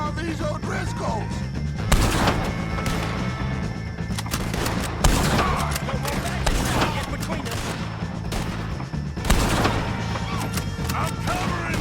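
Gunfire rattles through a Red Dead Redemption 2 shootout with the O'Driscoll gang, dense volleys of shots and heavy bursts at about two, five and nine seconds, with shouted voices mixed into the chaos.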